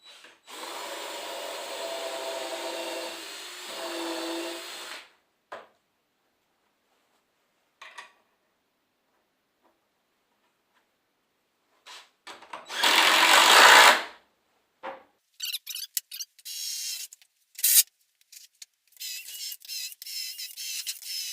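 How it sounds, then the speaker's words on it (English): A power drill whirs in several short bursts as it bores pilot holes for leg screws in wood for a barn gate, separated by quiet gaps, with scattered clicks and handling knocks. "We are going to drill pilot holes for these leg screws"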